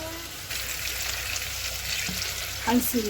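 Fat, oil and ghee melting and heating in a pan, a steady gentle sizzle with a louder spattering burst near the end.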